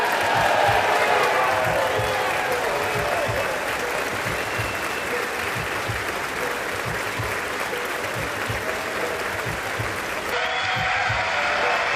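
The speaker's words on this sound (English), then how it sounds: "No, don't applaud." An audience applauds a political speech on the Iran conflict, with sustained dense clapping from a large crowd and scattered cheers that keep a steady level, then thin out near the end.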